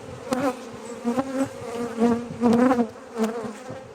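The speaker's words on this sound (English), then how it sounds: "Young bees making the wax." A recently housed honeybee swarm working on hive frames while drawing out wax, a close buzzing hum that rises and falls in uneven bursts.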